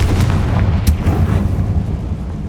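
A Confringo fire spell explodes in Hogwarts Legacy, a loud heavy booming blast with rumbling low-end and a sharp crack near the start, fading into a sustained roar.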